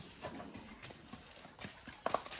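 A cow's hooves clop irregularly on hard ground nearby as it walks out in the morning, with a few louder knocks near the end.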